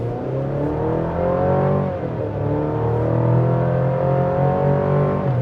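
A 2026 Chevy Colorado ZR2 pickup in Baja mode accelerates hard, its engine note climbing through gears with quick shifts, loud and close from inside the cab with no talking.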